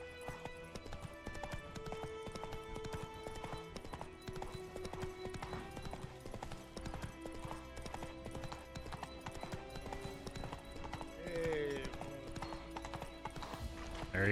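Geralt's horse Roach galloping in The Witcher 3: fast, continuous hoofbeats in a steady clip-clop rhythm with a brief neigh, layered over in-game music and effects.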